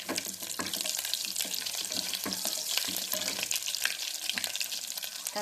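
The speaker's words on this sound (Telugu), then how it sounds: "పోపు చిటపటలాడుతానే వెల్లుల్లి వేసేయాలి" Garlic dropped into hot oil over spluttering tempering seeds, a steady bright sizzle with crackling pops throughout, close and fairly soft.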